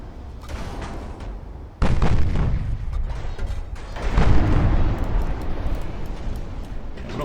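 Battleship main guns firing with shell explosions in the naval strategy game Ultimate Admiral Dreadnoughts. Heavy, rumbling booms hit at around two and four seconds, and a dense, roaring battle din continues between them.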